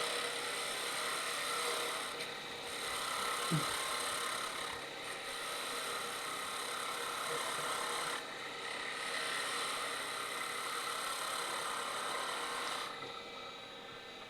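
A turning tool cuts a wood finial on a lathe, giving a steady close scraping rasp with brief pauses between passes and the motor humming beneath, no talking.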